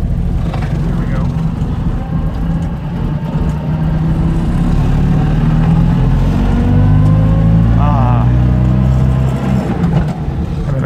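A classic Fiat 500's small engine pulls away in first gear, a steady loud rumble with rising harmonic sweeps as it accelerates, recorded from inside the car, with a voice speaking over it at moments.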